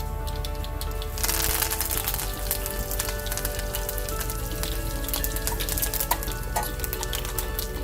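Fenugreek seeds, cumin seeds and curry leaves frying in hot oil, a loud close crackle and sizzle that swells suddenly after a second and continues densely with scattered pops.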